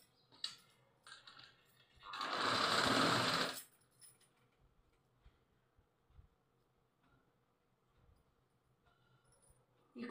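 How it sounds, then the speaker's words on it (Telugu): A sewing machine runs a short burst of stitching along the side seam of a small child's frock, loud and close for about two seconds, then quiet handling clicks follow. "ఇప్పుడు సైడ్ కుట్టు జాయింట్ చేద్దాం."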